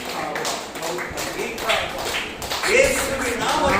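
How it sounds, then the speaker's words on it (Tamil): Hands clap together during a lively Tamil church worship service, a dense crowd-like patter running throughout with voices mixed in. "எல்லாம் தட்டுங்க கையை தட்டுங்க"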